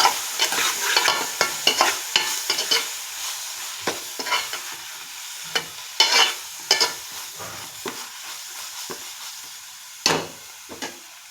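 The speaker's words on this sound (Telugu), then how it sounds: "ఇదంతా ఒకసారి బాగా కలుపుకుందాం." A spoon scrapes and stirs a spiced, chilli-powdered mixture in a hot pan for a prawn curry, irregular clattering strokes over a light sizzle, close and alone.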